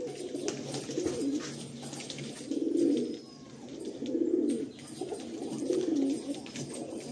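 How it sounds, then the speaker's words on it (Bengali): Kalanka pigeons coo in a loft, their low rolling calls repeating in a steady rhythm about every one and a half seconds over faint background hiss. "কালাঙ্কা পায়রা অনেক ভাই চাও, অনেক ভাইয়ের খুব পছন্দের ব্রিড হচ্ছে কালাঙ্কা"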